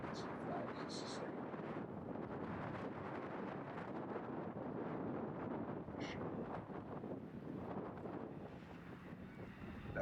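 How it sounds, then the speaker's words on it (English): Strong, sustained wind buffets the microphone on a disc golf course at Veteran's Park during a tournament round. It makes a loud, continuous roar with gusty swells that last throughout. "the wind was really, it got dialed up"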